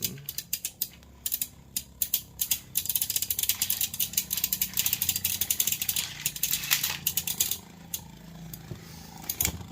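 Spinning battle tops clash and scrape inside a plastic stadium, a dense run of sharp rattling clicks and grinding scrapes that swells and fades in bursts, up close and with no talking.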